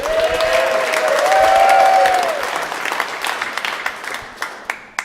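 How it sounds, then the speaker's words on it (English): Audience applause for a broadcast technician at a Chewelah talent show, a dense wash of clapping that builds and then thins into scattered individual claps, with a sustained tone sounding at the start. "Can you give Jeff a round of applause?"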